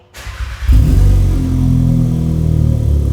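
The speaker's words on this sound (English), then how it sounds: "This cold start idle sounds way better than before" A four-cylinder car with a new exhaust cranks briefly on a cold start, then catches and settles into a steady, deep idle with a throaty exhaust rumble, close by and loud.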